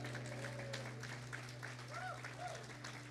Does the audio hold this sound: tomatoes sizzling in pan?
no